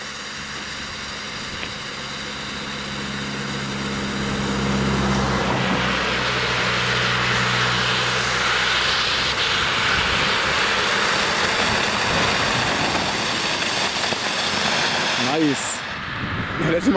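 Blackboxx Vesuvio No.1 firework fountain burning outdoors: a broad, steady roaring hiss swells in around five seconds and holds loud to the end, with people talking over it.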